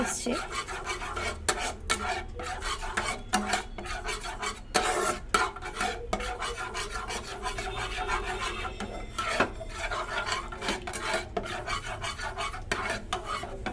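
Sugar caramelizing in a pan on a gas flame for a Christmas fruit cake is stirred without a break. The utensil rasps and scrapes against the pan in a quick, steady rhythm, loud and close, with no talk.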